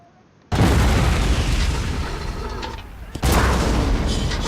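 Cannon fire in the video game Men of War Assault Squad 2, during a Union siege of Confederate Fort Wagner: two loud booming blasts, one sharp onset early and another near the end, each trailing into rumbling decay.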